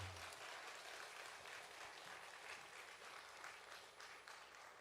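A congregation applauds steadily at a Wednesday church service, a faint, even wash of clapping that holds without a break for several seconds.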